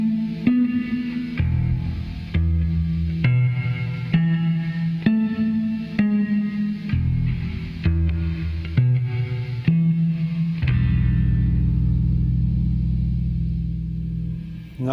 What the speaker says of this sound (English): here's my reverb unit